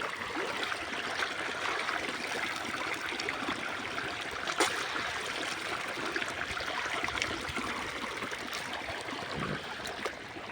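Irrigation water flows into a sugarcane field in a continuous, moderately loud rushing trickle that stays even throughout, with no voices.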